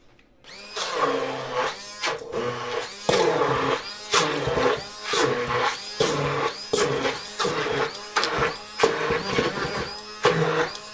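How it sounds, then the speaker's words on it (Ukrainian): A blender whirs in repeated short pulses mixing cheese cookie dough, starting and stopping in a steady on-off rhythm, loud and close. "І тепер це все перебиваю блендером."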